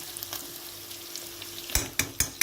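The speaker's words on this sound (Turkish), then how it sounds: "Biraz da tereyağı ekleyeceğim efendim." Butter dropped into a hot pan with oil for bulgur pilaf crackles with a steady, even sizzle, followed by a few sharp utensil scrapes and knocks as the pan is stirred, without talk.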